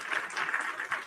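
Applause from a small group for a guest, a steady wash of clapping with gentle swells and no voices over it.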